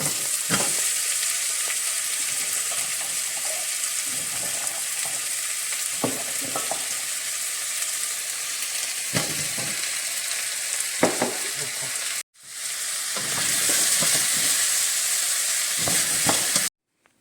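Pumpkin pieces frying in a pot for curry, with a continuous close sizzle and intermittent scraping stir strokes, a brief cut partway through before the sizzling resumes.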